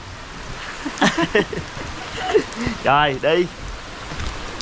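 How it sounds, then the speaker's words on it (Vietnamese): Rain falls steadily at a hillside homestay in Da Lat, a soft even hiss under short bursts of nearby talk. "Bây giờ thì trời cũng đang mưa anh chị."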